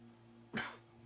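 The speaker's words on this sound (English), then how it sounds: "I need to clear my throat 1 second." A single short throat-clearing rasp, close and fairly loud, bursting out of a quiet background with a steady low hum.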